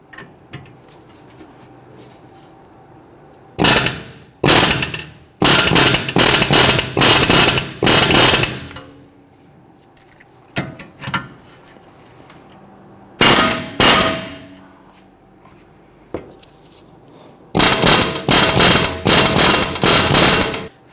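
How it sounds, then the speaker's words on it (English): A pneumatic air hammer rattles in loud, rapid bursts against the metal wheel hub of a Ford Taurus, several long runs separated by short pauses, close and harsh. "I'm going to use my air hammer here"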